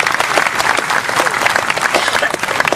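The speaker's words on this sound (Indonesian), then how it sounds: "tepuk tangan semuanya" A crowd at a live stage event in Indonesia breaks into loud, dense applause that carries on without a break, with talk and crowd noise mixed in beneath it.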